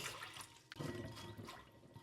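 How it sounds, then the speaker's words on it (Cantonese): Water rushes and splashes as black soybeans are rinsed in a kitchen, a steady close pouring wash that swells partway through. "黑豆，我哋揾啲水清洗一下先。"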